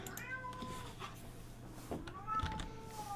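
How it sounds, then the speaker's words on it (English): A house cat meows a few times at moderate distance, short tonal calls scattered across a few seconds over a steady low background hum. "my cat brought a toy downstairs"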